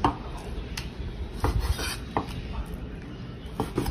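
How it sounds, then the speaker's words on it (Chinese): Pork and beef being chopped together with a cleaver for a home-style steamed meat patty: irregular, close knocks and thuds on a board, with no talk. "猪肉、牛肉一齐剁啊"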